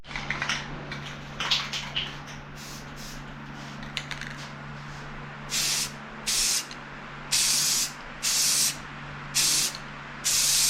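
Red paint sprayed onto a wooden box, heard as six short, loud hissing bursts in the second half, each separated by a pause, over a steady low hum with no talking.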